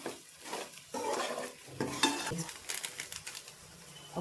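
A spoon stirs spices through a batani chaat mixture of dried peas, scraping and clinking against the bowl in uneven bursts for several seconds with no talk.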